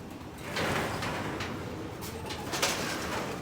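Racing pigeons arrive at a loft in a club training, with wing flutters, soft coos and light knocks of landing birds at close range against a noisy background and no clear talk.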